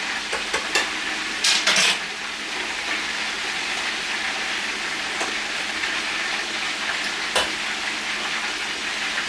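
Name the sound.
chicken deep frying in oil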